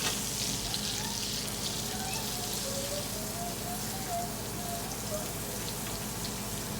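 Butter sizzles in a pan during deglazing, a soft steady crackle and hiss at low level, continuous throughout without speech.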